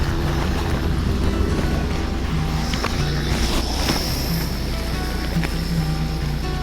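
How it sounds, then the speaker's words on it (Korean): A steady, loud motor drone hums continuously as an agricultural drone sprays pesticide over rice paddies, a small engine buzzing overhead with a faint whine rising and falling. "제초기 소리인 줄 알았는데 실제로 농약을 뿌리는 드론을 보니"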